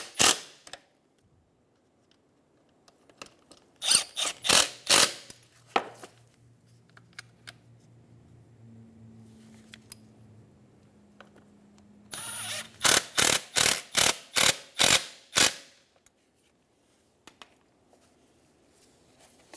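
A ratchet snugging down Phillips head screws on a 2003-2007 Infiniti G35 radiator fan, with two bursts of rapid, sharp clicking separated by a quieter stretch of faint low humming.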